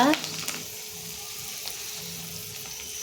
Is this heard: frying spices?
yes